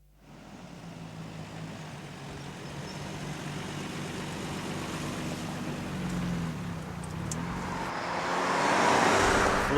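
A Nissan sports car accelerates hard, its engine note climbing steadily from a low drone into a louder, rising roar, with no speech over it.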